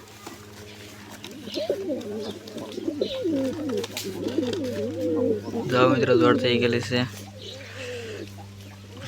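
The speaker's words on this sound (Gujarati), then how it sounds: "હા છે આપણી વ્હાઇટ કબૂતરની જોડ" A pair of white pigeons coo softly and repeatedly close by while someone talks over them throughout.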